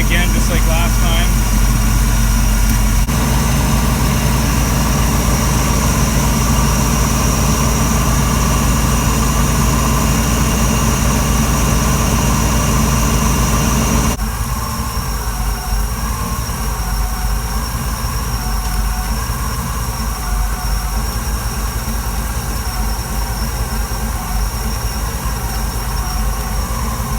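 A 1983 GMC K1500 Sierra pickup engine runs at fast idle with a worn alternator, giving a steady, loud, continuous drone that shifts slightly partway through, with someone talking over it.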